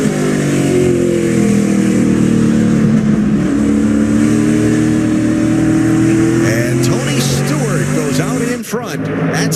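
Race cars roar around Stafford Speedway in an SRX series event, engines droning loud and steady with shifting pitch as the field passes, under continuous commentator talk.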